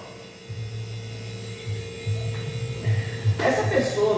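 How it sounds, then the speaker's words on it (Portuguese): A noisy, overly powerful compressor motor fitted in a DF51 refrigerator hums low and steady at moderate level, with some rattling swells and a brief voice near the end. "Um compressor bem potente. Inclusive que está fazendo muito barulho."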